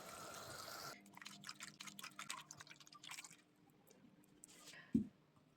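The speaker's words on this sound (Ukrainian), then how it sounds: "Тепер цим сіропом заливаємо сливи." Hot syrup poured over plums in a jar for pickling, a faint liquid pour and drip that ends in a sudden splash or clunk, no voice.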